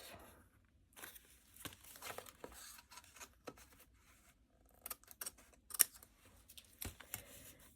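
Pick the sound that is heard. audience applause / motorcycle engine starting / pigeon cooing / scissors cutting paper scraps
scissors cutting paper scraps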